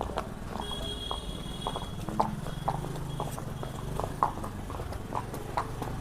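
Horse hooves clip-clop steadily during a ride, a regular walking rhythm of soft, fairly close hoofbeats with no talking.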